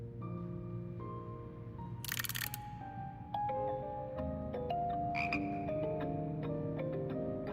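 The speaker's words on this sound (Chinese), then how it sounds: "青蛙合唱团" A chorus of frogs in the Hogwarts Legacy video game sings in clear, tonal croaks that step through shifting pitches like a tune. The croaks are layered over a soft background, with a short sharp crackle partway through.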